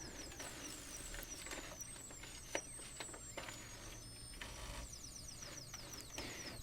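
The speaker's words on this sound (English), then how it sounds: "I put it in by jogging the y-axis via the keyboard, and so it just pulls the paper right in like a regular printer" A homemade drawing robot driven by encoders and LinuxCNC jogs its y-axis to feed paper in, giving a faint, steady mechanical whir with repeated short stepping chirps and small clicks, like a printer pulling in a sheet.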